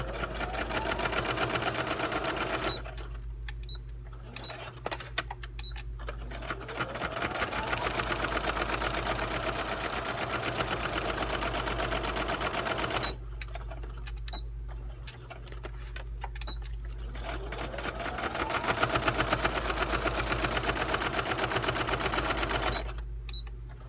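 A sewing machine stitches a paper shaker journaling card, its needle whirring in steady runs broken by short pauses, fairly loud and close.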